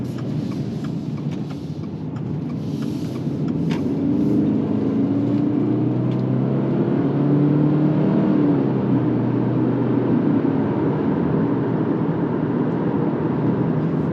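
A 2025 Subaru Forester with a CVT hums steadily while driving, a continuous low engine and road drone that swells slightly as it accelerates, with faint cabin noise and no talking.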